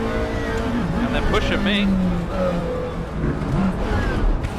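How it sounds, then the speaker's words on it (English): GT3 race cars in rFactor 2: engines roar and whine close by with shifting revs and a brief squeal of tyres as cars jostle, while someone talks over them. "Oh, as we have a massive accident."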